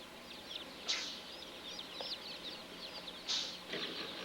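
Hens cluck and chatter in a poultry facility, a busy overlapping murmur of calls with a couple of louder squawks standing out, fairly faint and continuous.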